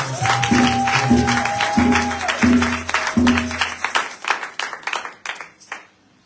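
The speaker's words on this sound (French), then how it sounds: "Si vous êtes d'accord, applaudissez encore." A congregation at a church prayer night clapping together, a dense round of applause that rises and then breaks into scattered, fading claps, with a sustained tone ringing underneath early on.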